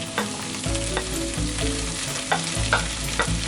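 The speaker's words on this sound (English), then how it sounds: "We're going to add in the mashed dal back into the pan." Mashed dal cooks in a pan with a loud steady sizzle and frying crackle, broken by repeated spoon scrapes against the pan, heard close and without talk.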